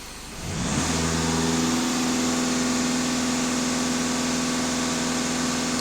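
A VW Passat 2.0 TDI diesel engine is revved from idle to a steady raised speed, and a loud, constant mid-pitched drone holds close up with no talk.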